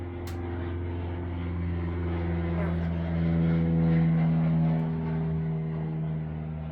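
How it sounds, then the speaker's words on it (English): Airplane passing overhead, a steady low droning hum that swells gradually to a peak in the middle and then slowly fades, fairly faint and distant throughout. "That's a plane."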